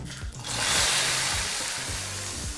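Hot oil tempering with mustard seeds and curry leaves poured into saaru, a sudden loud hiss and sizzle that swells and settles into a steady crackling fry, close up, with no talking.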